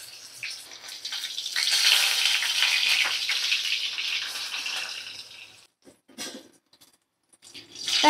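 Brinjal pieces sizzle in a frying pan, a steady hissing crackle that swells, then fades into short broken bursts and near silence.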